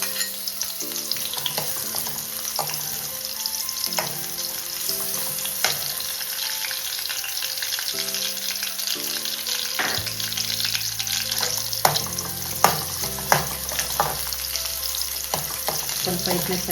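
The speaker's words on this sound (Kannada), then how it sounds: "ಒಂದು ಈರುಳ್ಳಿ ಹಾಕ್ತಾ ಇದ್ದೇನೆ." Onion frying in hot oil in a pan for a Coorg-style mango gravy, a steady close sizzle broken by stirring scrapes and a few sharp clacks of a spoon against the pan, with no talking.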